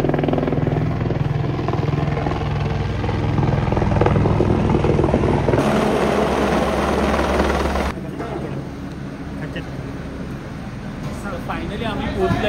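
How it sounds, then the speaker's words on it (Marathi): A helicopter arrives at the Vaishno Devi helipad with a loud, steady rotor and engine roar throughout, which drops in level partway through as it settles, while people talk nearby. "Helicopter is coming."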